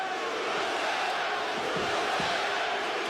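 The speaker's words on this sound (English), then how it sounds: "USA chants here at Barclays Center as this New York crowd tries to get behind one of their own" New York crowd at Barclays Center during UFC 242 chanting USA, a steady distant arena roar of massed voices with faint rhythmic chant pulses throughout.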